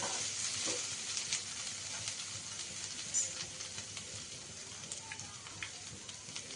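Ginger and green chili paste sizzles and fries steadily in a hot pan, a continuous close crackle with small spits and pops throughout and no talking.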